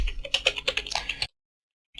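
Quick, close-up clatter of keys as HTML code is typed on a computer keyboard, a dense burst of taps lasting just over a second before sudden silence.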